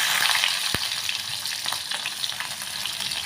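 Ginger and garlic frying in hot oil for Tumkur chutney, a steady bright sizzle with one sharp clink of a utensil early on, close and continuous with no voices.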